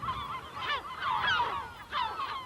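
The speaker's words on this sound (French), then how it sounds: "Des dizaines de milliers d'oiseaux de mer, guillemots, goélands ou cormorans, qui au gré des saisons viennent nicher sur l'île." A colony of tens of thousands of nesting seabirds, guillemots, gulls and cormorants, on an island reserve in the Berlengas, gives loud overlapping honking, cackling calls in several bursts with no talk.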